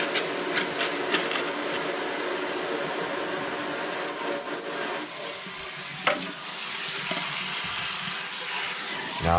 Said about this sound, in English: Now I run the water kind of hot.